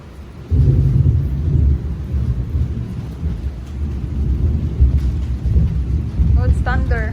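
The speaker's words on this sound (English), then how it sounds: "Oh, it's thunder." Thunder rolls during a rainy Saturday in Manila, a sudden loud low rumble that swells and lingers over steady rain, with people talking faintly nearby.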